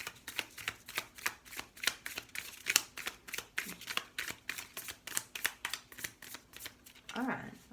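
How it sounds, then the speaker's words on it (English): A deck of tarot cards is shuffled by hand, giving a steady run of crisp, riffling card slaps at close range, with a voice briefly heard near the end. "These cards are so easy to handle. The shuffling is not a problem in comparison to my cards."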